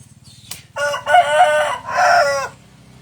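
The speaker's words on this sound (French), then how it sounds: "ce sont des coqs. Des coqs de combat" Fighting cocks in a village in Isan, Thailand: two loud, close crows in a row, each a long harsh call, over faint clucking and background chatter of other birds.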